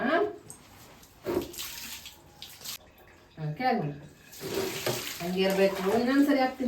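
Water is poured over a baby's head during a bath, making splashing and gushing pours in bursts between quieter moments, with voices mixed in.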